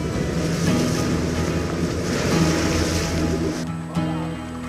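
A speedboat races across open sea, with a loud, steady rush of water and spray against the hull and heavy wind buffeting the microphone. Near and continuous, with a brief thump toward the end and no talking.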